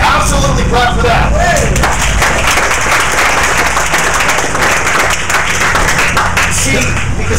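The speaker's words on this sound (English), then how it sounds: "you should absolutely clap for that" Audience applause at a California gubernatorial campaign event in Modesto, a dense steady wash of many hands clapping for the full length, loud and close with crowd noise mixed in.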